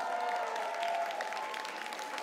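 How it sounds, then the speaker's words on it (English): Fairly faint, steady applause from a crowd at a costume contest, an even patter of clapping throughout with a faint steady tone underneath. "If you think that Superman should be the winner, give him a big round of applause"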